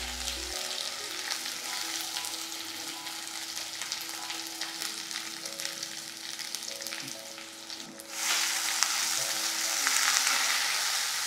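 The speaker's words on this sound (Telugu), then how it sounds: "ముద్దను కొంచెం వేగనివ్వండి" Ground masala paste frying in hot oil with curry leaves, a steady crackling sizzle that grows louder and brighter toward the end, with occasional stirring clinks.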